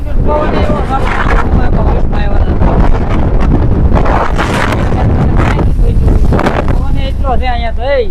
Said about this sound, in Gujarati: પવન એટલો છે અહીંયા તો.